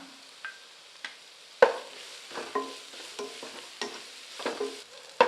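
Grated carrot being stir-fried in a hot pan, with scattered scraping clinks of a spatula and a soft sizzle underneath, close and intermittent.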